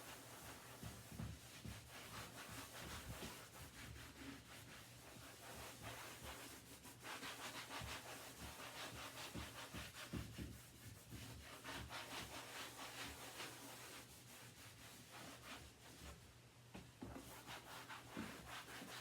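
A rag rubs wax over painted vinyl chair upholstery in a steady, continuous scrubbing rhythm, close and fairly quiet, with repeated back-and-forth friction strokes and no talking.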